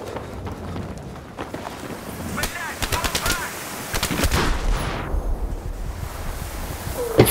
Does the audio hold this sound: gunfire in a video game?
yes